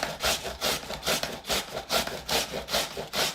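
Russet potatoes rubbed on a box grater make a rhythmic rasping scrape, about three strokes per second, loud and close, with no talking.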